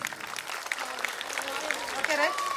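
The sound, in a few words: audience applause at school annual day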